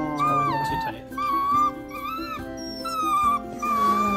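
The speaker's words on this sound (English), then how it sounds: "A little whimpering." Young beagle puppy whimpering in a series of high, wavering whines, about four short cries that rise and fall, heard close and alone.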